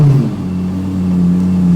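A Lexus LFA's engine fires up and settles into a low, steady idle, a loud close mechanical hum with a brief higher burst at the start before holding an even drone.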